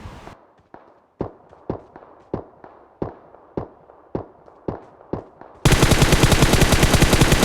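Gunfire in the BGMI mobile battle royale game: a series of evenly spaced single loud shots, about a dozen, followed by a dense continuous burst of rapid automatic fire at close range.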